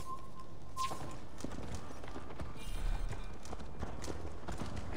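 A horse galloping in Assassin's Creed Valhalla, hooves clip-clopping in a quick, steady rhythm with a brief whinny early on and some heavier thuds midway, close and moderately loud over soft game ambience.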